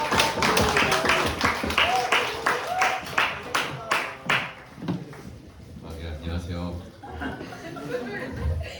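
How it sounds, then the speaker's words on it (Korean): A small group at a church student service claps in quick, rhythmic bursts for several seconds, then the applause fades out and people begin talking and chuckling. "우리 주호 학생 나올 때 박수로 환영하겠습니다."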